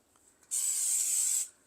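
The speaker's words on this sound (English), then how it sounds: "Spray the bowl" A single short hiss of aerosol cooking spray into a dough bowl, lasting about a second, close and fairly loud, preceded by faint small handling sounds.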